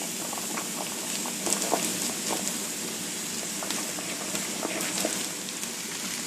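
Mushrooms and cauliflower cook in a pan for low-carb cauliflower stuffing, giving a steady, even bubbling sizzle with faint scattered pops throughout, up close and without talk.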